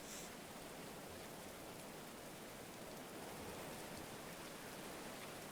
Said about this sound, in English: Enjoy the sound of the rain falling or the birds chirping